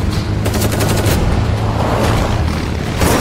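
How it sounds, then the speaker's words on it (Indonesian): Intense gunfire exchanged at several points among rocky mountain cliffs, a dense continuous roar of overlapping shots and rumbling echoes, loud and sustained throughout. "Terjadi baku tembak intens di beberapa titik. Suara tembakan bergema di seluruh pegunungan."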